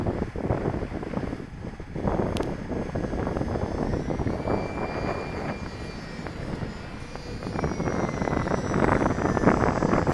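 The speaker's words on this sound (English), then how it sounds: "feels like we had about a 15 mile an hour wind now" A small RC airplane, a UMX Timber, flies outdoors in a gusty wind of about 15 mph, with steady wind rumble buffeting the microphone and a faint thin motor whine rising and falling above it.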